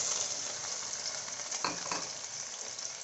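Chopped onions drop into hot oil with cumin in a cooking pot, giving a continuous bright sizzle and frying hiss with a brief stir partway through, close and fairly quiet.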